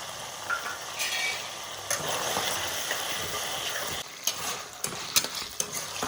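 Chicken pieces frying with ginger-garlic paste in a pan: a dense, close sizzle and hiss, then irregular scraping clatter from stirring toward the end, with no talk.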